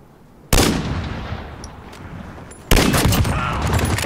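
Gunfire from the Call of Duty Modern Warfare video game, in a 1v1 match on the Rust map: two loud, sharp blasts with long echoing tails, the second following about two seconds after the first.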